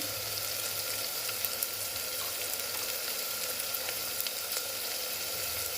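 Homemade masala, chili powder and coriander powder sautéing in a hot pan for Khandeshi masala khichdi, giving a steady, even sizzle and hiss throughout with faint scattered crackles and no talking.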